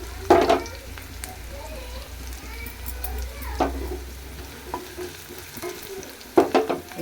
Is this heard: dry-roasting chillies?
yes